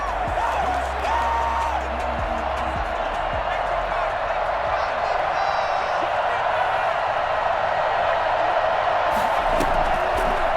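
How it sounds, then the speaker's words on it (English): Steady crowd roar in the Madden 21 football video game during the Super Bowl, a dense continuous wash of cheering throughout, with a commentator talking over it. "And this crowd loves it as their guys hold on the opening drive."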